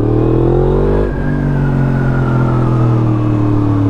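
Motorcycle fitted with an Akrapovic exhaust revs hard and loud, the engine note rising steadily, then dropping abruptly at a quickshifter upshift around one second before climbing again under full throttle.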